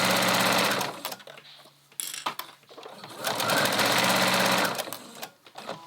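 A sewing machine runs a straight stitch along the hem of a doll's circle skirt, whirring loudly in steady stretches with short pauses and restarts between runs.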